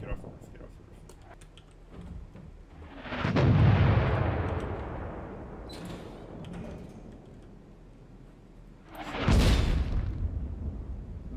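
Mortar rounds land in the war video game Six Days in Fallujah, two heavy booming impacts several seconds apart, each rumbling and then fading, with quieter gunfire and game noise between them.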